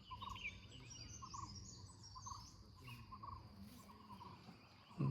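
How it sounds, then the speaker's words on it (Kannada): Birds call in the forest near Sree Bhyraveshwara hill temple in Sakleshpur, repeated chirps and calls over a faint bed of insect buzzing, quiet and distant with no voices. "ಪಕ್ಷಿ ಸ್ವರ ಕೇಳಿಸ್ತಾ ಇದೆಯಾ?"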